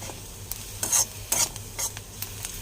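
Oil frying in a pan, a steady low sizzle punctuated by about six sharp scraping stirs of a spatula at irregular intervals, close and clear over a faint background hum.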